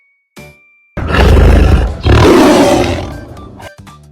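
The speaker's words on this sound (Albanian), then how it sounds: "Tigri." A tiger gives a deep, loud roar in two long surges with a short break between, standing alone after a brief faint sound at the start.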